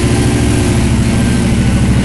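A drag race car's engine idles high, a loud, continuous, close rumble with a fast, even pulse and no letup, with no talk over it.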